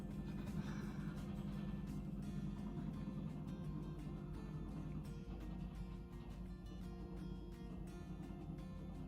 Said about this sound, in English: And now there's a lorry going past